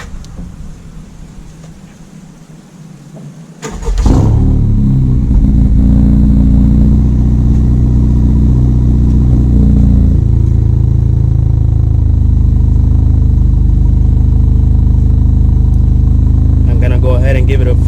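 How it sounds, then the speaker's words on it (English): A 2018-2020 Honda Accord fitted with a PRL front pipe cold starts with a sharp crank, then settles into a loud, steady, deep-toned idle that runs on close by. "we're gonna go ahead and do a quick power on cold start after installing the front pipe"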